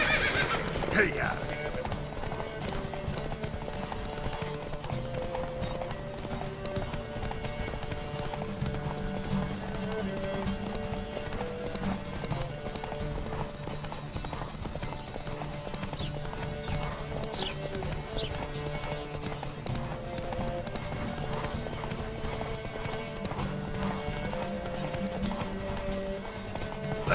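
Rhythmic hoofbeats of horses galloping in a race in the video game The Witcher 3: Wild Hunt, with horses neighing and people calling out over the pounding.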